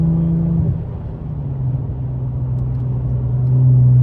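2016 Hyundai Genesis Coupe 3.8 V6 engine and exhaust while driving on a highway under cloudy skies, a steady close droning rumble that swells as the revs climb near the end.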